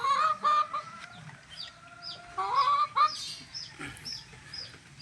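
A golden boy rooster crossed with a bulik hen clucks and calls nearby in a farmyard, several close, throaty clucks and squawks in bursts, with other birds chirping faintly around.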